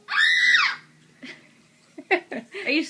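A talking parrot lets out a loud, shrill scream lasting about half a second, followed by several shorter squawks and chattering calls close to the microphone.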